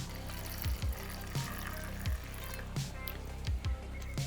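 A 3D-printed endless water magic trick releasing water, several short gurgling pours and splashes that repeat at irregular intervals over a low steady background, with no one speaking.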